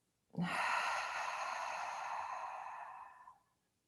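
A single long, slow exhale during yoga practice, a soft breathy rush that starts abruptly, holds steady for about three seconds and fades out, close and alone in a quiet room.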